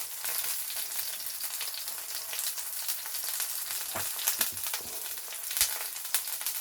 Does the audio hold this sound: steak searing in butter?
yes